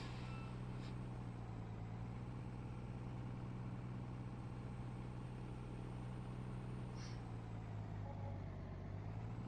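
A big Ford truck's engine hums in a low, steady idle from close by, with a couple of faint brief clicks over the constant drone.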